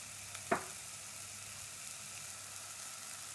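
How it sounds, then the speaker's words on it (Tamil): Channa kurma masala fries in a pan, a steady faint hiss and sizzle running throughout with one brief clink near the start. "இத நல்லா ஃப்ரை பண்ணிக்கணும்."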